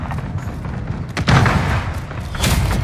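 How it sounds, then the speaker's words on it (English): Cluster-strike explosions in a war video game, a series of heavy booms and thuds with sharp blasts near the middle and end over a rumbling battlefield background. "Enemy cluster strike. Take cover."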